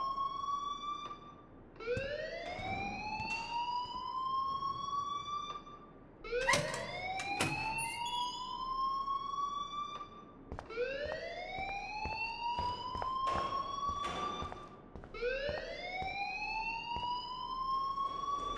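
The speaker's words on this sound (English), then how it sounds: "please turn off that alarm since that's your job" Alarm sounding in the Life is Strange video game, a repeating rising electronic siren wail cycling roughly every four seconds, steady and continuous with some clattering underneath, no speech.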